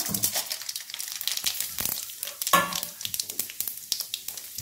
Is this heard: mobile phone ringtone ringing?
no